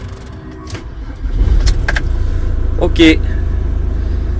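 A car engine cranks and catches after the key turns, settling into a steady low idle rumble, with a clink of keys and a brief word spoken over it.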